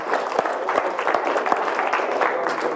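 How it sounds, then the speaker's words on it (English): Lecture audience at a talk on AI and games gives a brief round of applause, dense steady clapping from a modest crowd with a few sharper individual claps standing out. "give yourself a wee round of applause"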